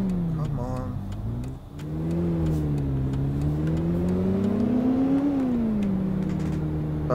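Engine of a Mini John Cooper in the City Car Driving game, a steady simulated drone whose pitch rises and falls gently as the car pulls away and cruises, heard alone at moderate level.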